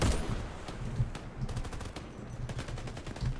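Rapid automatic gunfire in the shooter Warface, a fairly close burst of repeated sharp shots in a steady rhythm over about three seconds.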